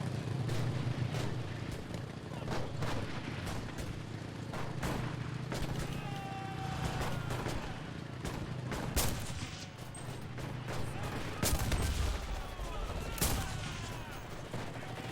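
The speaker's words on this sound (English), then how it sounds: "My artillery, dude." Artillery and gunfire in the video game Enlisted, a dense, continuous barrage of booming shots and bursts with a low rumble underneath, loud and busy throughout, with a heavier blast near the end.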